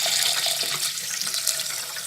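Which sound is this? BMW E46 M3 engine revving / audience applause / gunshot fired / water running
water running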